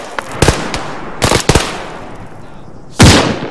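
Gunshots ring out during a military engagement in the Zeko hills of Afghanistan, a few loud, sharp cracks in short clusters followed by a heavier blast near the end, with open-air echo between them.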